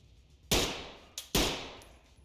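Gunfire in the tactical police shooter Ready or Not: two sharp, loud shots about a second apart, each with a short decaying tail and a faint click in between, with no talk.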